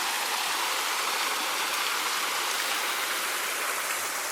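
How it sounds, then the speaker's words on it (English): Water rushes steadily down the wooden mill race feeding the John P. Cable grist mill at Cades Cove, Tennessee, a continuous close, full-bodied splashing flow with no pauses. "a different angle on the mill race where the water's coming down to the water mill"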